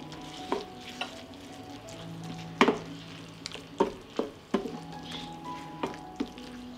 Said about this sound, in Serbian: Sve ću promešati i nastaviti da pržim još 5 minuta